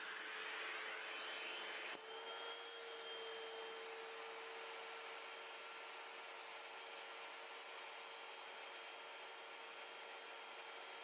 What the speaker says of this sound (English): It is the vacuum packing session